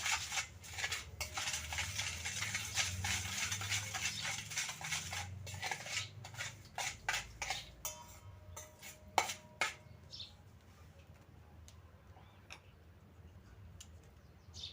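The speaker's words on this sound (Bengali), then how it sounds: "ভালো করে মিশিয়ে নিচ্ছি চামচের সাহায্যে ভালো করে মিশিয়ে নিতে হবে" A spoon scrapes and clinks against a bowl while cucumber pickle is mixed with chopped chilli, a busy run of light metallic taps and stirring that thins out into sparse clicks, close and fairly quiet.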